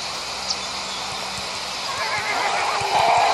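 Horse whinnying in the mobile game Clan of Horse, a loud, drawn-out neigh that builds over a steady background bed, with no voices heard.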